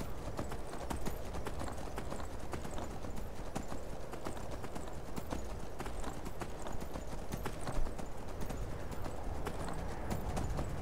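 Hooves clip-clop in a steady quick rhythm as a horse is ridden into the city of Windhelm in Skyrim, a continuous moderately quiet gait over faint ambient background.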